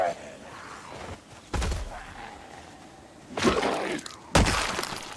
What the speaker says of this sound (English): Did hear glass breaking